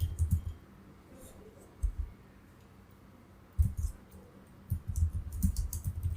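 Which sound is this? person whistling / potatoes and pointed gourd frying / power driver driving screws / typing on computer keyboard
typing on computer keyboard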